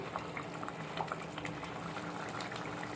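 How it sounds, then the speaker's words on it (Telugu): Gongura prawn curry simmering in a pan over a low flame, a faint, steady bubbling and popping that continues evenly throughout with no talk. "ఫ్లేమ్ని లోకి అడ్జస్ట్ చేసుకొని ఈ వాటర్ అంతా దగ్గర పడేలాగా ఉడికించుకుందాం."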